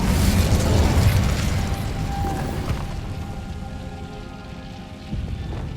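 The Incendio fire spell is cast in Hogwarts Legacy: a loud, rumbling fiery burst that swells at once and then fades into a crackling, rain-like hiss.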